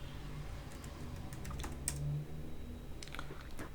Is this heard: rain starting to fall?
no